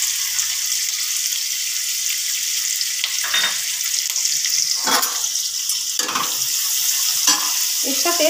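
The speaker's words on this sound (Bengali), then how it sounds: "দিয়ে দিচ্ছি পেঁয়াজ কুচিটা।" Chopped onion sizzles loudly with potatoes fried with salt and turmeric in oil in a cooking pot, a steady hiss broken every second or so by scraping spoon strokes, alone without talk.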